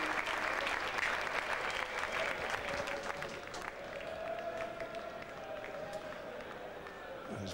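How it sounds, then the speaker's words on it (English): Raucous applause from a cricket crowd in the grandstand at a West Indies v England Test match in Trinidad, a dense steady wash of clapping that carries through the whole stretch with crowd noise and faint voices mixed in. "Even the merest nudge is getting raucous applause."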